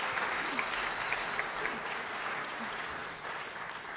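Jazz concert audience clapping at a show in Stockholm, a steady mass of hand claps at moderate distance that holds evenly for several seconds before easing slightly.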